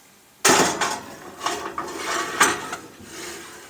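A baking dish of pasta bolognese is set into an oven heated to 200 degrees: a sudden metallic clunk, then several lighter clatters and knocks of cookware and rack, close and clear.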